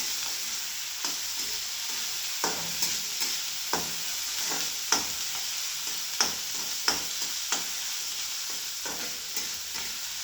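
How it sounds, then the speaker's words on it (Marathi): Chopped onion fries in a pan, a continuous soft sizzle broken by regular light scrapes and taps of a spatula stirring, no talking. "चांगला असा कांदा कापलेला आहे। आता लालसर भाजून घेऊया सगळं"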